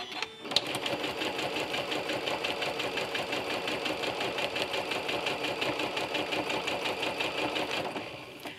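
A sewing machine fitted with a walking foot runs steadily through crosshatch quilting, its fast mechanical stitching rhythm close and continuous for several seconds before stopping near the end.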